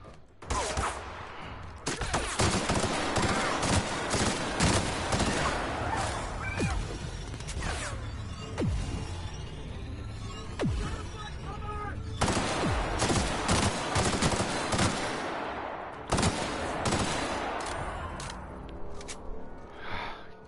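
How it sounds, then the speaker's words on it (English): Gunfire in The Outer Worlds: dense bursts of automatic fire and sharp single shots crackle almost continuously for about twenty seconds, loud and close, with brief pauses and a few faint gasps. "Wait, who's shooting at me now?"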